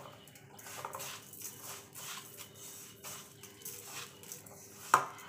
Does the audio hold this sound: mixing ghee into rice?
yes